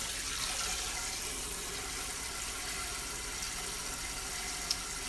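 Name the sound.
filling a dirty pan with soapy water at the sink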